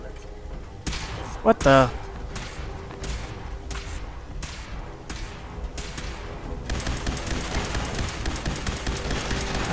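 Automated turrets fire in Fallout 4: sharp, loud gunshot bursts crack out in an irregular series, then turn into dense, continuous rapid fire. Someone speaks briefly over the shooting.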